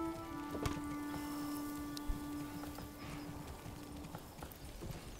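An ox hauls a load in Manor Lords. Faint hoof clops sound over a low, rain-like background hiss, with a steady tone lingering underneath and a couple of sharper knocks.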